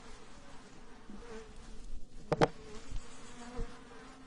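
Honey bees from an opened hive of an ecotype strain buzz in a continuous close drone, with a few sharp clicks from handling the frames and no talking.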